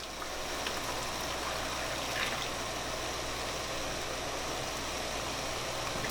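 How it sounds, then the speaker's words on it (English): A steady, unbroken rush of boiling water poured into hot canning jars packed with sweet potatoes, an even hiss-like stream that runs the whole time with no talking. "She's going to put the water in now."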